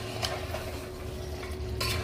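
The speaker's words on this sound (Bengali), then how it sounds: "এবারে আলুগুলো দিয়ে দেব। দিয়ে মাংসের সঙ্গে ভালো করে মিক্সড করে দেব।" A spoon stirs fried potatoes into mutton curry in a pot, a steady scraping churn with soft sizzling underneath, close and continuous without any talk.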